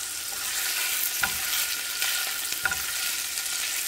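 Chorizo and egg frying in a pan, a close continuous hiss and sizzle broken by a few scraping stir strokes, no voices.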